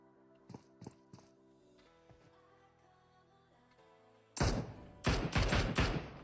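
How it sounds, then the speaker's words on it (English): Gunshots in PUBG Mobile: a few faint distant shots near the start, then a loud cluster of rapid shots toward the end over a quiet background. "Shots starting to come in now."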